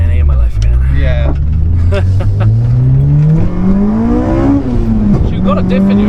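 A Honda Civic Type R EP3 with a naturally aspirated engine climbs through its revs into the VTEC crossover, its pitch rising steadily then dropping and climbing again. It is loud and close, with people talking over it.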